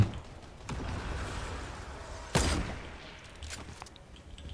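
Gunfire rings out in Fortnite during a match, with several sharp shots scattered across a few seconds, one standing out louder and nearer than the rest over a steady background rumble.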